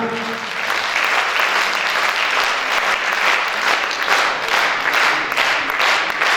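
Steady, dense applause from a large audience fills the whole stretch, loud and sustained without pause.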